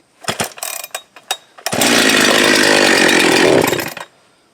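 A Husqvarna 372-style chainsaw, a blemished kit saw with an ignition problem, gives a few short sputtering pulls and bursts, then roars at steady high revs for about two seconds before cutting off.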